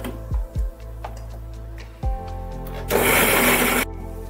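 A kitchen mixer grinder churns poppy seeds and sesame with a splash of milk, a loud whirring burst of about a second after several short pulses and knocks.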